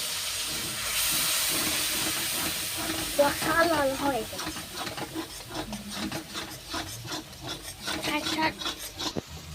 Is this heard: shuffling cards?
no